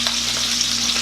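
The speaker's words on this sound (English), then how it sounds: "I also feel like I'm talking louder now so you can hear me over the sizzling." Steak sizzles loudly in melted butter in a frying pan, a constant, close, crackling hiss with no pauses and no voices.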